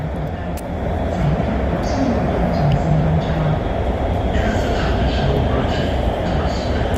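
A Shenzhen Metro Line 20 train runs along the track, a loud, steady interior rumble of wheels and motors with faint hiss and squeal rising midway through, and no talk.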